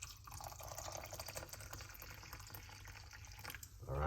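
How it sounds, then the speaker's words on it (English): Hot water pours steadily into a cup holding a few slices of lemon peel, a faint continuous trickle and drip that rises in pitch as the cup fills near the end. "and then pour some hot water."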